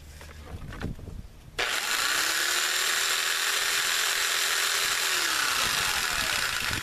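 Corded jigsaw running on a solar inverter's 11.9-volt supply cutting wood: after a brief handling rattle it spins up sharply and buzzes steadily for about five seconds, its pitch dipping near the end.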